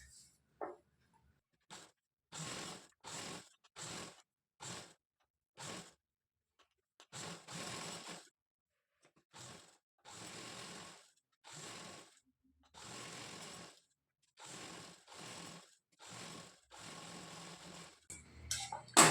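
A sewing machine stitches the neckline and waist of a blouse in short repeated bursts, each run lasting about a second with brief pauses between, close and fairly quiet.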